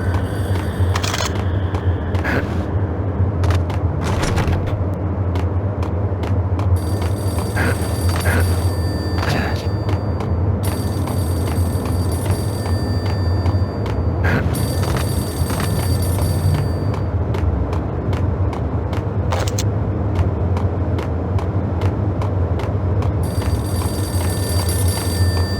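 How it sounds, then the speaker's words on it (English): A payphone in the Max Payne video game rings repeatedly in bursts of bright electronic trilling, set against a dense, steady ambient drone and scattered clicks throughout. "payphone started to ring"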